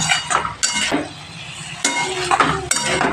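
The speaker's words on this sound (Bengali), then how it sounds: "আমি এই পেঁপে আর আলুটাকে মশলার সাথে একসাথে ভালোভাবে কষিয়ে নিচ্ছি।" Papaya and potato stirred with spices in a pan, close metallic scraping and clinking of a utensil against the pan in uneven strokes, with only a faint sizzle and no talk.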